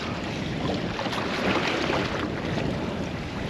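Steady wind buffeting the microphone on a small fishing boat at sea off Lee-on-Solent, a constant loud roaring rush with no pauses and no voices.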